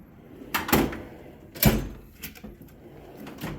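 A drawer on a Snap-on or Harbor Freight tool chest in a shop slides open with two distinct rolling thuds about a second apart, followed by lighter clinks of tools shifting inside, close and fairly loud.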